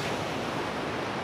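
Waves wash in at Calang beach in Aceh Jaya, Indonesia, a steady, even roar of surf, moderately loud and unbroken, with no voices.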